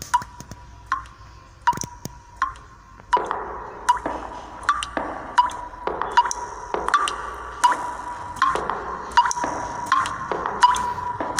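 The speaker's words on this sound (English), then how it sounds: "I guess I'll just have to walk towards the dripping sound." A leaking pipe in a video game drips at a steady, uneven pace, each drop a sharp plink with a faint ringing tone, quiet against a low background hum.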